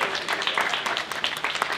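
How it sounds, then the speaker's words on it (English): An audience at a university engineering competition's final presentations breaks into applause for the event staff, dense and fairly close claps filling the short stretch. "give our staff a great big round of applause"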